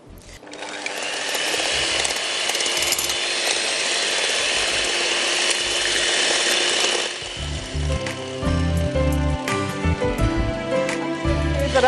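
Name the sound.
beating eggs for chocolate cake batter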